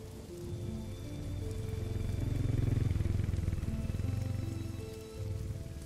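A motorbike engine starts up and runs in a night-time city downpour, with the engine rumble rising and holding steady under a continuous hiss of heavy rain on the surface.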